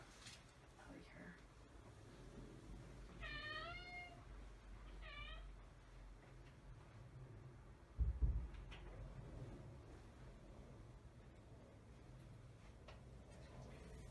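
A house cat meowing to be fed, with two clear, rising meows close by in quick succession, followed later by a brief thump, over a quiet room with soft voice murmurs.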